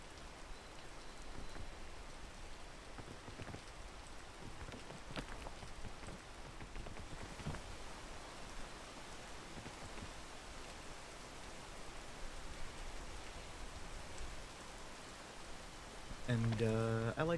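Steady rain falls in a continuous soft hiss with scattered drops, even and moderately quiet throughout, and a brief tonal sound appears near the end.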